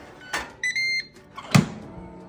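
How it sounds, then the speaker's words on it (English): An air fryer set to air fry mode is started: a few button clicks and electronic beeps, then a clunk as the basket or door is pushed in, fairly quiet and close. "So set it on air fry, do it for 14 minutes at 400 degrees."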